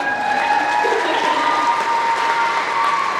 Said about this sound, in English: finish clapping